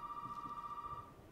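A telephone rings inside the Resident Evil 7 game, a faint, steady trilling electronic bell lasting about a second before fading, alone with no talk.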